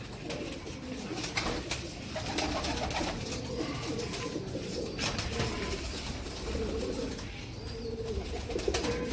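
Ambarsary pigeons cooing softly in a flock, low repeated coos over a steady, noisy background with occasional wing flutters, fairly faint and continuous.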